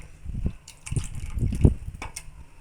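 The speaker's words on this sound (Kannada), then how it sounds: "ನಾನಿಲ್ಲಿ ಎಲ್ಲ ಸೇರಿ 1 ಲೀಟ್ರ್ ಅಷ್ಟು ಹಾಕ್ಕೊಂಡಿದ್ದೀನಿ ನೀರು." Water poured into a cooking pot for egg curry, a series of gushing, splashing pours in bursts with short pauses between them, close and fairly loud.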